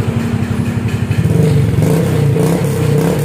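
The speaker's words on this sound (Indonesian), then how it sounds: "Nah kita akan coba geber ya bro ya." A motorcycle with a worn-out, hollowed exhaust idles with a rapid popping chug and then is revved, the engine note rising into a louder, rougher roar close by.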